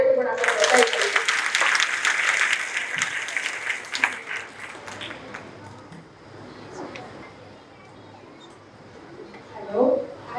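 An audience at a talk by Dr. Shruti Patel bursts into dense, close applause for about four seconds, then it thins into scattered claps and murmuring with a brief voice near the end.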